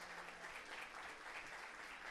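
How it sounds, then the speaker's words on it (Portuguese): A church congregation applauds warmly during a Sunday service, a dense and steady wash of many hands clapping at once. It sounds distant and faint, with no clear voices above it. "Receba um aplauso carinhoso."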